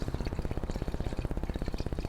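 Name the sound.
water running through clay sewer pipe from the house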